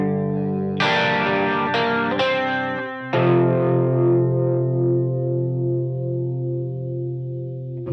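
Electric guitar run through effects with distortion and chorus strums a few full chord hits from a song, then lets a final chord ring out and slowly decay, alone without talk.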